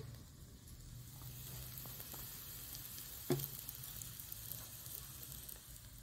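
Mustard oil heating in a wok gives a faint, steady sizzle with one sharp pop partway through, quiet and without talk.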